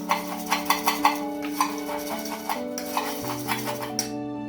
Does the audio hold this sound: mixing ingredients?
yes